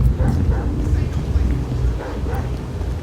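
Dog barks and yips in the GTA 5 video game, a few short close barks mixed with game background sound and a person talking.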